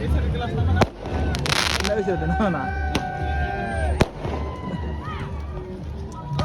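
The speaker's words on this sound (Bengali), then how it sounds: "আতশবাজি চলতেছে" Fireworks going off outdoors, several sharp bangs and crackles with whistling rising streaks, close and loud, while people talk and call out over them.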